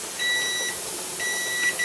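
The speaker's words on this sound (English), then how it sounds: "our timer just went off" A kitchen timer beeps during pressure canning, giving two short runs of thin, high electronic beeps over a steady background hiss, close and fairly loud, with no talking.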